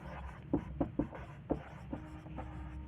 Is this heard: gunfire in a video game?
no